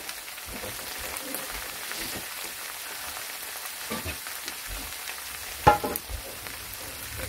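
Carrots for pork fried rice cook in a pan over a lowered flame, giving a soft, steady sizzle like light rain, with a brief louder clatter near the end and no voices.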